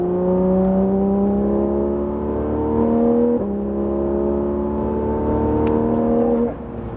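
A Porsche GT3 RS engine revs steadily upward on the Le Mans Maison Blanche circuit, heard loud from inside the car, with a brief dip at an upshift before climbing again and easing off at the end.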